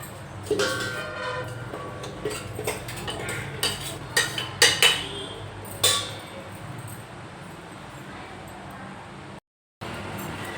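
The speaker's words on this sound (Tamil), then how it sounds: "இப்போ எல்லா மாவையும் அரைச்சிக்கிட்டு இன்னும் கொஞ்சம் இருக்குது இன்னொரு மிக்சி போட்டுக்கிறேன்" A mixer grinder grinds millet flour for kambu koozh; a few sharp clattering knocks lead into a steady whirring drone that drops out briefly near the end.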